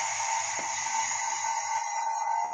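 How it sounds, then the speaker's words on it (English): Vacuum pump drawing air out of a glass jar holding a glass of water during a live science demo, a steady continuous hum with a high whine, even and unbroken. "So the noise you can hear is the pump working."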